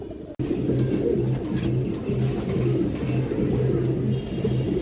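Several pigeons on a pigeon farm coo close by in a steady, overlapping, rhythmic chorus that carries on without a break.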